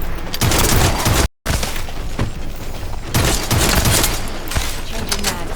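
Dense, continuous automatic gunfire from a weapon in the sci-fi looter-shooter game The First Descendant, loud and close, with rapid bursts and booming impacts broken by one brief silent gap.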